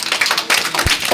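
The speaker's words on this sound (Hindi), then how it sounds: "चलिए ताली बजाइए।" Schoolchildren at an eco club cabinet formation clap their hands in quick, uneven bursts, a loose patter of sharp slaps close by, with one heavier thump near the end and no talking over it.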